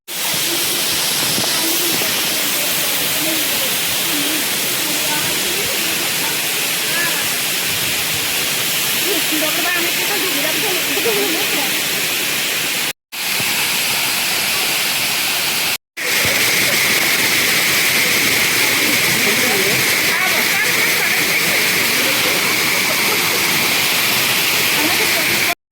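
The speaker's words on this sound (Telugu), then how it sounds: "ఇలా వాటర్ ఫాల్స్, జలపాతాలు చూడండి." Rushing water pours down Dharapalli waterfall in a loud, steady, broadband roar that fills the whole scene, briefly cut twice by short gaps, with a faint hissing tone rising in the later part.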